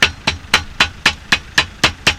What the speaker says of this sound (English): Just carefully tap around the edge of the gear case, and it will cut the extra paper away.